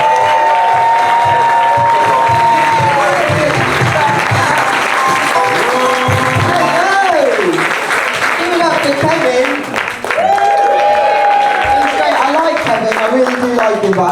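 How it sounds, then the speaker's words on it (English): A comedy club audience in Wrexham bursts into sustained applause, dense clapping with some cheering that fills the room, while a voice speaks loudly over it and tonal sounds from music or the sound system come and go. "round of applause"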